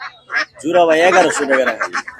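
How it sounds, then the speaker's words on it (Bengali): Domestic ducks, including year-old birds, at a village poultry market give loud, close nasal honking calls in a short burst, with a voice nearby. "বড় হাঁস এগুলো এক বছর"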